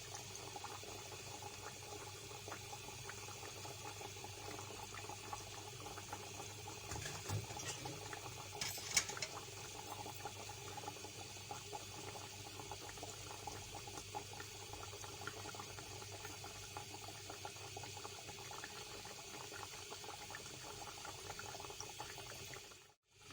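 Sweet tikki patties fry in hot ghee in a wok, giving a steady, soft, even sizzle and bubbling that lasts throughout, with no voices over it.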